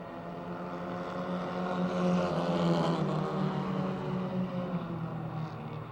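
Race cars circling a speedway oval during a heat race, a layered drone of several engines at a distance that swells and fades as the pack passes.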